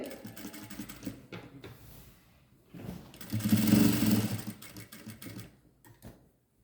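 A sewing machine stitches a lining skirt (pavadai) in close, rapid bursts of running stitches, separated by short pauses, with the longest run in the middle.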